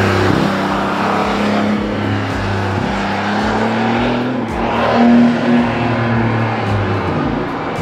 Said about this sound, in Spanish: disfruta de las espectaculares imágenes y abrumador sonido del nuevo Porsche 911 Targa 4 GTS